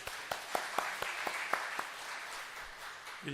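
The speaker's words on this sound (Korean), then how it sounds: "박수 한번 해주십시오" A short burst of scattered hand claps from a church congregation, a handful of sharp claps over a soft crowd murmur, fading after a few seconds.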